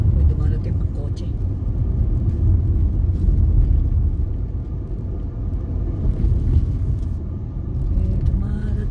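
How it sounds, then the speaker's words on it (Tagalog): Car approaching on a rural country road in autumn, a steady low engine and tyre rumble that stays loud throughout, heard from inside a moving vehicle with people talking over it. "Oh, may dumarating pang kotse."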